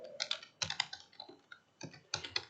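Someone types a paper title on a computer keyboard, the keys clattering in quick bursts of clicks with short pauses between, close and fairly quiet, with no voices.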